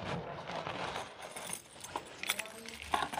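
Keys jangle and clink while someone fetches a house key at the door of a newly bought home, with light metallic chinks growing sharper toward the end over a faint background hum.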